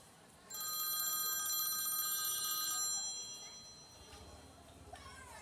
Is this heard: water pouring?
no